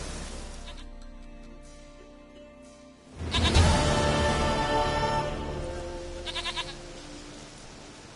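A goat in The Witcher bleats loudly and close, one long wavering cry after a quieter stretch of game ambience, then a shorter bleat follows near the end.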